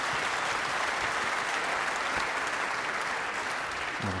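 A small audience at the 2021 Welsh Open snooker final gives steady, modest applause for a shot, a soft continuous patter lasting several seconds.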